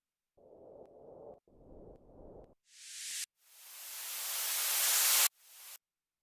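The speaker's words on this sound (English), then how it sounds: "I already had some noisy white noise. This time we're going to reverse it, though." A white noise sample is played in reverse in a tech house production session, swelling from silence to a sharp cutoff in several bursts after a few short noisy hits.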